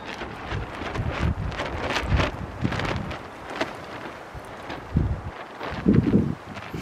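Wind blowing against a tarpaulin shelter in a mountain forest, soft gusty rustling that swells and fades in uneven bursts, fairly faint and close, with no talking.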